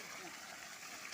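Water flowing through a channel blocked by a jammed stone and clumped debris, a steady rushing gush heard close and continuous, with a person talking over it.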